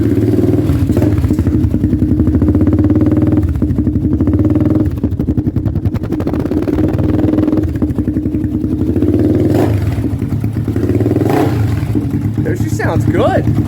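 A loud Honda 400EX ATV engine rumbles and revs up close, a throaty idle with surging throttle, steady throughout.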